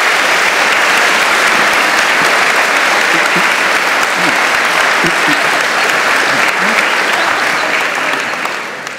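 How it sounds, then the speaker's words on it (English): Loud, sustained applause from an auditorium audience after an onstage conversation, a dense continuous roar of hand claps that holds steady before tapering slightly at the end. "quick round of applause for the little discussion we had there"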